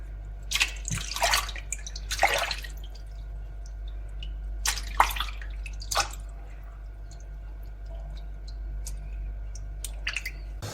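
Cauliflower mushrooms being washed by hand in water, with sporadic splashes and drips over a steady low hum; no talking.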